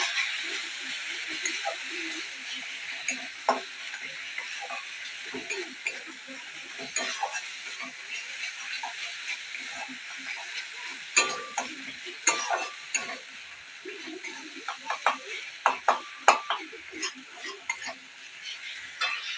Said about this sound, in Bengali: একটু কাশ্মীরি রেড চিলি পাউডার কালারের জন্য দিয়ে দেবো, অল্প একটু ধনে গুঁড়ো দিয়ে আমি ভালো করে কষিয়ে নেব